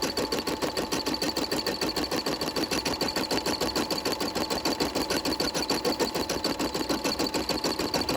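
An embroidery machine stitches onto a paper doily, its needle hammering in a fast, steady mechanical rhythm with a constant motor whine, close and continuous throughout with no talking.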